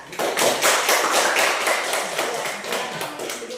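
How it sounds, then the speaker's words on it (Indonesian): Students in a classroom clap for a group that has just presented, a close, busy patter of many hands that runs for a few seconds and then thins slightly. "Beri tepuk tangan untuk kelompok 3."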